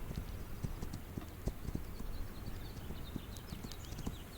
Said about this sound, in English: Where's my horse?